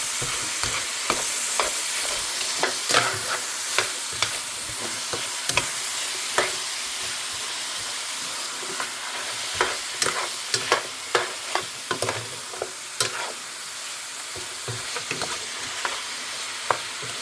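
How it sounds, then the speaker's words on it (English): Food frying in a pan is mixed with a spoon, making a continuous sizzle broken by frequent sharp clicks and scrapes of the spoon against the pan in an uneven rhythm, close and fairly loud, with no talk. "Mix it all well, very well. Mix it all very well, okay?"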